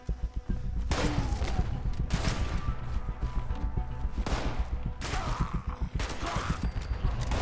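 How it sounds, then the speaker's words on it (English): Heavy bursts of shotgun fire in a Fallout 76 firefight, several loud close blasts in quick succession with mechanical clatter between them. "This is a job for a shotgun."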